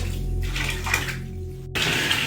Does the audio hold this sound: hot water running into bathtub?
yes